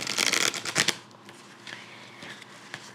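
Tarot cards are shuffled in quick, crisp riffling bursts over the first second, followed by softer sliding and tapping of the deck.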